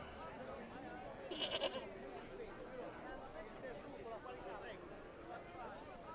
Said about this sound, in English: What can we do with the old goat?